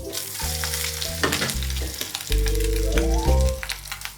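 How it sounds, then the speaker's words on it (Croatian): Octopus frying briefly in a very hot pan dusted with smoked paprika powder, a loud continuous sizzle that surges twice over steady tonal music in the background. "I sad ćemo hobotnicu kratko gore pripremiti."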